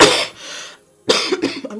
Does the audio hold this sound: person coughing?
yes